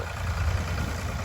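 A Ford tractor engine running, a low steady rumbling drone with even vibration heard briefly at moderate distance, no speech.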